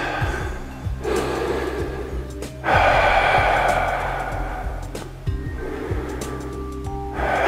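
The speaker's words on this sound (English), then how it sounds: "Take a deep breath." Deep breathing during the cool-down of a kickbox aerobic HIIT workout, long loud inhales and exhales, each a breathy rush lasting a couple of seconds, repeating slowly and close over faint background music.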